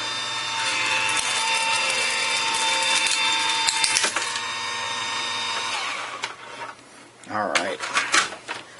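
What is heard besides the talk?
Vagabond die cutting machine cutting a stencil shape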